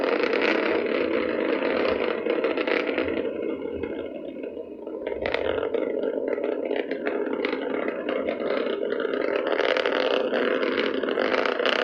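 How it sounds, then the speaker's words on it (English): SpaceX Starship SN15 climbs on its three Raptor rocket engines during a test flight to 10 kilometres, a steady, dense roar that holds throughout and dips slightly for a moment midway before returning to full strength. "Starship 15 is airborne as we get a view of the 3 Raptor engines as we're powering our way to 10 kilometers altitude"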